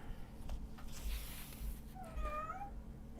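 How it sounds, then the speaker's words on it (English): A cat meows with a clear, drawn-out call near the end, heard indoors over a low steady hum with faint rustling. "She has got such a distinct meow."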